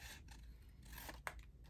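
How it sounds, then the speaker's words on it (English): Small scissors snip through paper ephemera for fussy cutting. Several quiet, close crisp snips sound over faint background hum, with one sharper click near the end. "Maybe I'll pull out my little scissors"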